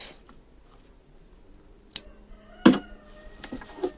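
Scissors snip threads on a swimsuit being sewn with elastic edging, with two or three sharp close metallic clicks spaced apart in an otherwise quiet room.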